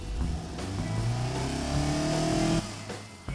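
A simulated Lotus 7 engine in the game BeamNG revs hard, its pitch climbing steadily for a couple of seconds before the throttle drops off.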